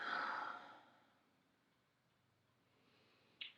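A single audible exhale during a yoga pose, a soft breathy sigh at the start that fades into quiet, followed by a brief faint sound near the end.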